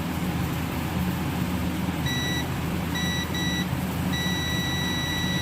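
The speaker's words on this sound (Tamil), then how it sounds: "எனக்கு பாசிட்டிவ்லையும் பீப் சவுண்ட் வருது" A multimeter in continuity mode beeps while probing the battery connector of a Samsung SM-B110E phone with a short circuit, giving several steady tones of varying length, with the longest near the end, over constant background noise.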